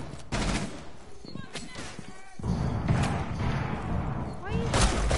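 In a Rainbow shooter video game, bursts of gunfire and heavy thumps come in rapid clusters. Players' voices talk over the shots throughout.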